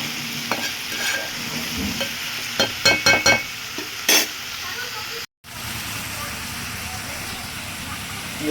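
Broad bean and tomato curry being stirred in a hot pan, with a constant close sizzle broken by a cluster of sharp spoon scrapes and clicks against the pan.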